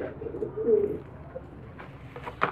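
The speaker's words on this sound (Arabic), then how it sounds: "طبعا هي الحمامة بتموت اهو خلاص، اللي هي الزغلولة دي." A sick young pigeon gives soft, low coos up close, a short murmured phrase near the start, then fainter scattered sounds and a brief chirp-like bit at the end.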